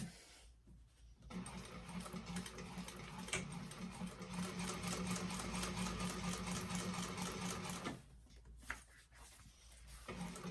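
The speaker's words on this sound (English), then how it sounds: "towards the side panel and do a top stitch there" Sewing machine running steadily while top stitching the side panel of a vintage-style expandable tote at an eighth-inch seam allowance; a close, continuous mechanical whir from about 1 to 8 seconds, with quiet pauses at both ends.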